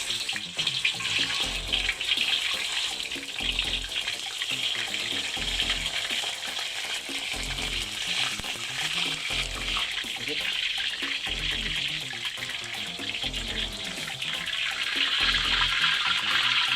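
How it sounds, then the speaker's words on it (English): Chicken pieces searing in hot oil in a pan while cooking murgh kalimirch, a steady loud sizzle and spatter that continues throughout with a rhythmic low thumping underneath and no talking. "Time to sear the chicken and lock in the juices."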